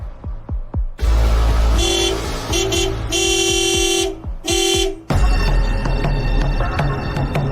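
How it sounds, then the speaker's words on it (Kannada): Vehicle horns honk from the street outside a house, sounding in several sustained blasts of varying length over a steady traffic rumble, loud and fairly close. "Horn sound ಕೇಳಿಸ್ತಲ್ವಾ?"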